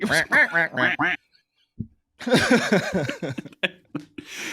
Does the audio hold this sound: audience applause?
no